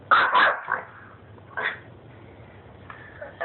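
A chihuahua on a back porch lets out a quick pair of sharp, high yaps, then one more bark a moment later, with faint whimpering in between.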